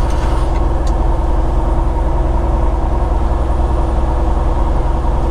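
Peterbilt truck with a CARB-compliant engine brake descending Monteagle at night, a steady loud diesel drone heard from inside the cab, continuous without breaks.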